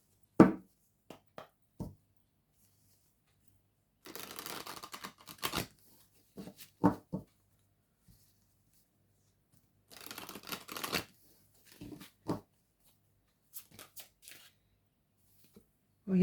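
An oracle card deck is shuffled in a quiet room, with bursts of riffling and flicking cards up close, separated by short taps and silent pauses.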